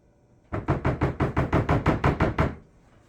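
A spatula knocked against a bowl of keto chocolate cake batter to clean it off, a rapid run of about ten sharp, close taps lasting two seconds, then quiet.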